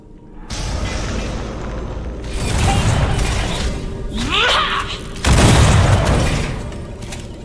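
Heavy spell explosions in the dungeon strategy game War for the Overworld, a Bombard attack of repeated loud booms and blasts with a swooping effect, layered with game sound effects.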